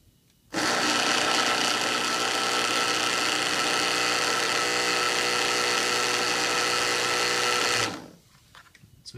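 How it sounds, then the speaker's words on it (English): Bilge pump motor converted into an ROV thruster with a propeller, running dry on a test bench: a loud, steady, high-pitched electric whine that starts abruptly, holds constant for about seven seconds, then winds down. "bilge motor converted into a thruster with a propeller."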